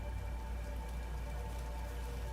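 Rain falls in a Sonic X Shadow Generations fan film scene, a dense, even hiss of drops hitting surfaces that holds steady and moderately loud throughout, with no voices.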